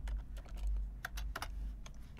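Computer keyboard keys typed in short bursts of clicks and taps, entering a shape name in PowerPoint at close range with no talking.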